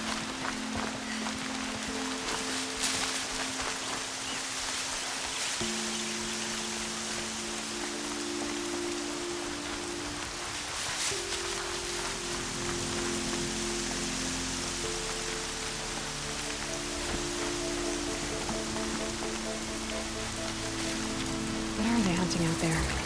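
Steady rain hiss in the video game Horizon Zero Dawn fills the scene throughout, with low sustained musical tones drifting underneath.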